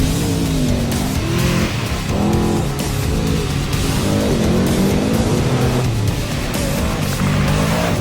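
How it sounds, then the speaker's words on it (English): A trophy truck races over huge jumps and whoops in the Plaster City desert, its engine roaring loud and close, revving up and down in surges with rough, gritty tire and dirt noise throughout. "testing this truck out in Plaster City with some huge jumps and some of the gnarliest whoops in the world"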